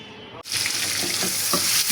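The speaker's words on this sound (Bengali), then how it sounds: "ডিম ভুনা করবো, তাই ডিমগুলো ভেজে নিচ্ছি।" Eggs hit hot oil in a pan after a short silence, and a loud, steady sizzle and crackle follows with occasional stirring noises, close by and with no talk.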